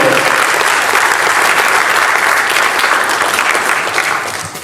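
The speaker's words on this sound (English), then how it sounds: "Please, another warm round of applause for them." An audience gives a loud, sustained round of applause for the Veterans of Armenia Foundation, with dense clapping that holds steady for several seconds before thinning near the end.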